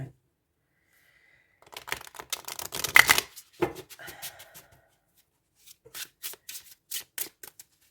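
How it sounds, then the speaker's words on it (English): Oracle cards from the Compendium of Witches deck are shuffled close by in two bursts of rapid, papery clicking and flicking, the first longer and denser, the second a sparser run of separate snaps after a short pause. "I'm going to give this a bit of a shuffle"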